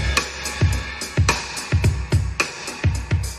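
Four mixed drum tracks with reverb play a steady groove of punchy kick and snare hits, each with a short spacious tail, fairly loud and alone without any talking.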